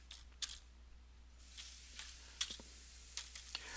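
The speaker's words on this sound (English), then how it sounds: "I'm just going to click Start and type CMD once more." A computer keyboard being typed on during a Windows admin command-prompt lab, sparse quiet key clicks in short irregular bursts over a low steady hum, no talking.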